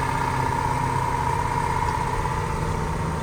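Steady engine drone from a vehicle travelling along a road in Ukraine, likely a truck hauling corn. The hum runs continuously and evenly for a few seconds with no voices.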